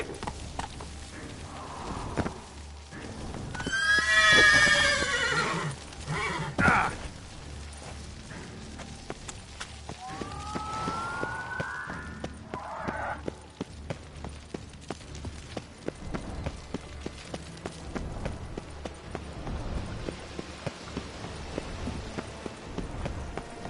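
A horse in The Witcher 3 gallops with rapid, rhythmic hoofbeats, interrupted early by a loud, shrill neigh and later by a second, shorter whinny, the hooves continuing steadily afterward.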